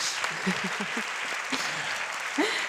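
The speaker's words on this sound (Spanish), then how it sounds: "Un aplauso para el Foro de la Cultura de Valladolid" A theatre audience at a cultural forum in Valladolid claps loudly and continuously. A voice speaks briefly in short bursts over the applause.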